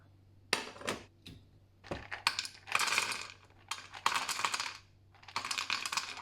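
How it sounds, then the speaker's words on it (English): Unsalted cashews are poured into a pan for toasting, making bursts of hard rattling clatter as the nuts hit the metal, several close pours separated by short pauses. "get some of these unsalted cashews in a pan and get them lightly toasted"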